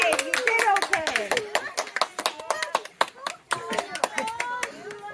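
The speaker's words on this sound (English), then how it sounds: "I don't think people clap at the end of press conferences. They do with this one." Scattered hand clapping at the close of a press conference at the Lac Luster Music & Art Fair festival, sharp uneven claps mixed with people talking over them.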